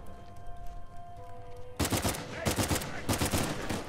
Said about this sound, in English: Okay, it's a three-round burst gun.